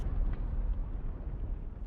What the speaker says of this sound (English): Which leads to a massive explosion.